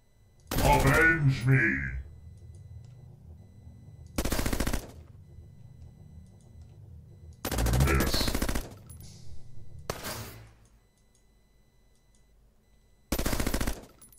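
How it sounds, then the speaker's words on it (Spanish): Mech gunfire in the roguelike game Bionic Dues, heard as several loud, separate bursts about three seconds apart over a low steady background hum. "Están disparando entre ellos, ¿eh?"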